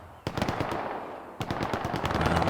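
Machine gun fire in the online shooter Hell Let Loose: two long, loud rapid bursts, the second starting after a short break, with dense rattling shots close by and no talking.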